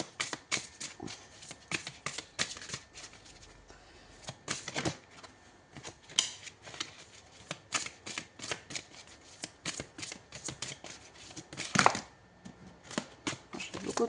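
Tarot cards being shuffled by hand, a rapid series of crisp riffling flicks and snaps in irregular bursts, close and fairly quiet with no talk over them.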